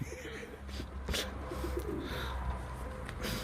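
Soft, low cooing from tumbler pigeons repeats against a steady background hum, with a few brief rustles and clatters over the steady murmur.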